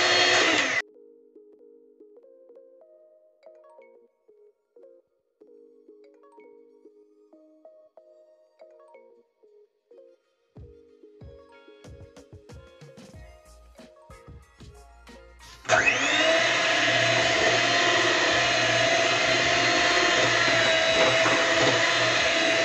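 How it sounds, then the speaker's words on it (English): An electric whisk beats Korean scallion pancake batter made with milk, starting briefly, then a long quiet stretch of faint clinks, and finally a loud, steady whirring hum that runs to the end. "I'm going to whisk this."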